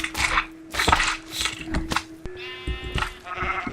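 Sheep in the Minecraft video game bleating in several short, close, distinct cries, separated by brief gaps and a sharp click.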